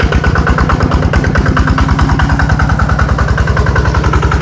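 An automatic motorcycle engine runs steadily at close range, a loud, continuous putter with a fast, even firing rhythm and no pauses.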